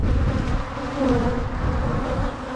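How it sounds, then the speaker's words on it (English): Dense, loud buzzing of many agitated honey bees swarming close by at an opened hive during requeening, a steady droning hum with no voices. "The bees are very, very testy."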